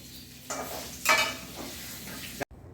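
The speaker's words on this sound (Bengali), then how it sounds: "তুমি পনিরটা ভেজে ফেলো" Soft paneer frying lightly in a pan, with a moderate sizzle and a brief stirring scrape midway, close and fairly quiet, cutting off abruptly near the end.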